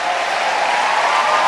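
Church congregation at a pastor's sermon breaking into sustained applause and cheering, a dense continuous wash of clapping with no pause.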